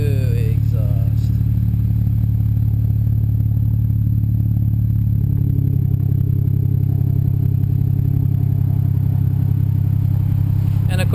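BMW 335i idling through a new HPF 3.5-inch stainless steel Gen 2 exhaust system, a continuous low rumble that deepens and thickens about halfway through.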